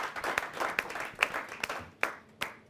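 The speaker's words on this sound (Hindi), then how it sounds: "एक बार हम तालियों के साथ स्वागत करें भाई अनिल अग्रवंशी का।" A small audience at a Hindi poetry gathering claps to welcome a parody poet, sparse and uneven, with sharp individual claps standing out over a soft spread of applause.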